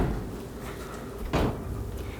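A home kitchen oven door swings open with a single clunk partway through, amid quiet room noise and no speech.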